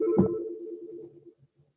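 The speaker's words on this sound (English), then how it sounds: "I have to silence my phone here" A phone beeps as it is being silenced, a short electronic tone at the start that trails off into faint blips, alone and fairly clear.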